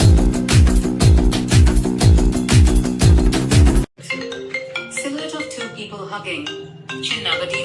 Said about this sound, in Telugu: చిన్న ఆయన ఫోన్ చేస్తుంది, మీరే చూడు.